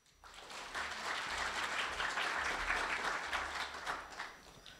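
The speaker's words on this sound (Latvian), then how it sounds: "Ar aplausiem!" Warm, sustained audience applause fills a hall at the opening of a university conference on higher education, a dense steady roar of many hands swelling up quickly and then tapering off near the end, with no voices over it.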